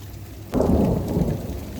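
A sudden deep boom of thunder breaks over steady rain during a thunderstorm in Stocksbridge, UK, rumbling loudly and lingering after the initial crack.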